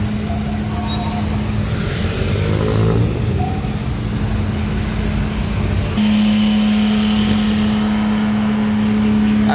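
A truck works a street flushing operation in Divisoria, Manila, its engine a loud, steady drone with a strong low hum running throughout, with no talking.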